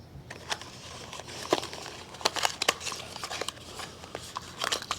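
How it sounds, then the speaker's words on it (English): A plastic bag holding a thermostat for a Toro Wheel Horse 520 LXi tractor crinkles and rustles in irregular bursts, close up, with sharp crackles scattered through a few seconds of handling. "This is also in a plastic bag."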